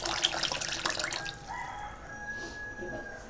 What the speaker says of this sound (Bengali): এখন একটু জল দিয়ে দেবো এখানটা, পরিমাণ মতো জল দিয়ে দেবো